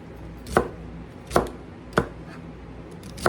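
A knife chops through ribs of celery on a cutting board, four sharp, evenly spaced thunks close up with quiet gaps between them.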